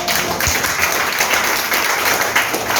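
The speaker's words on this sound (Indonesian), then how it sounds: "Tepuk tangan dong." A church congregation applauds a preacher during a sermon, dense steady clapping filling the whole stretch at moderate loudness with no voices over it.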